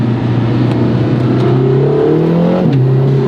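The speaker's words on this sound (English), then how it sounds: "Let's downshift a couple of gears for the last time before returning it to Lotus." A Lotus Emira with its four-cylinder engine drones loudly from inside the cabin, its pitch climbing steadily and then dropping sharply as a gear is downshifted, the revs resettling at a lower note.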